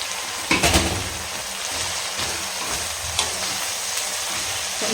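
Fresh coriander leaves sautéing in a hot pan for chutney, a close, steady sizzle and hiss with a few scraping stirs near the start and later, loud and alone.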